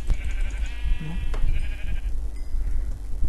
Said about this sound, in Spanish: Ya hay una oveja, vamos a aprovechar también.